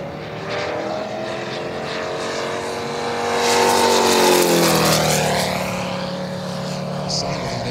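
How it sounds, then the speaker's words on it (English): A Moki 250 radial engine on an SU31 model aircraft drones loudly, its pitch sweeping up and then falling as it passes close by, then fading to a steadier whine. "The sound of that engine is just hypnotic. The lovely Moki 250."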